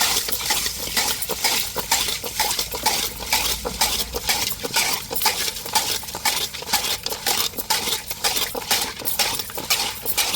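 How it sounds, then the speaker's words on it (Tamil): Coarse rock salt scraped and rubbed over fish in a bowl, a steady run of gritty, clattering scrubbing strokes close up with no talk. "இப்போ மீனுக்கு உப்புக்கல் போட்டிருக்கோம். நல்லா உரசி எடுத்துக்கிடுவோம்."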